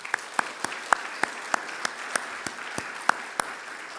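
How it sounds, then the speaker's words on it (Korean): A church congregation claps in blessing for the young people, sparse and slow with distinct individual claps landing roughly every third of a second over a soft background. "청년들 향해서 우리 축복의 박수 한번 보내줬으면 좋겠습니다"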